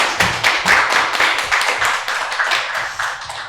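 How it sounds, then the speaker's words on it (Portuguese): Steady applause from a group, many hands clapping briskly and continuously, fairly loud and close, with no talking over it. "Então vamos dar uma salva de palmas a todos esses abraços que estão mandando pra gente"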